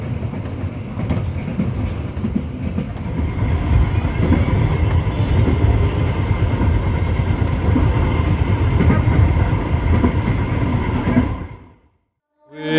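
The Sritanjung economy train runs on rails from Yogyakarta, with a steady loud rumble and rattling clickety-clack inside the carriage that continues for about eleven seconds before cutting out abruptly.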